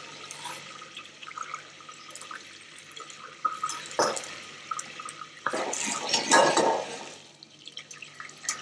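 Cut fennel battens are rinsed under a running tap in a kitchen sink, a fairly quiet trickle with small splashes and drips that swells into a louder, fuller gush of water toward the end.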